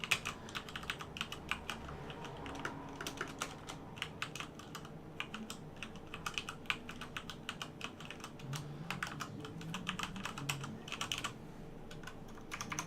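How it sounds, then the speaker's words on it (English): Keys clatter steadily on a Corsair K95 keyboard, a brisk, continuous run of close clicks and taps with short irregular pauses, no voices. "So that's a quick example of the sound of the keys."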